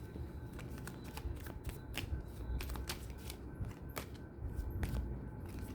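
Tarot cards being shuffled by hand, a steady run of crisp riffling and slapping clicks close up for several seconds with no voices, during which one card drops loose.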